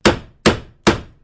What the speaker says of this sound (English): There's nothing better than the sound of a hammer